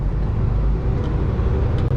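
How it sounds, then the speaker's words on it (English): Trucks pull in at a loading site, their engines a continuous low rumble that stays close and steady, with no voices over it. "There's trucks piling in here too."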